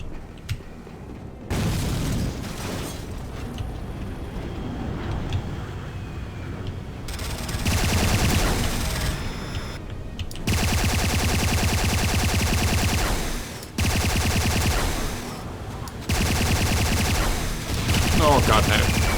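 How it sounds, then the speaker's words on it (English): Mortar blasts and gunfire in the Command & Conquer: Renegade shooter game: heavy booms and rattling bursts of automatic fire in loud, dense stretches broken by brief lulls, with occasional talk underneath. "God, they're firing mortars at us as well now."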